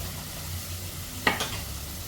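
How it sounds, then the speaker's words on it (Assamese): Potatoes frying in oil in a wok give a soft, even sizzle, broken by one sharp clink of a utensil partway through. "আলুখিনি এনেকৈ ভাজি লৈছোঁ।"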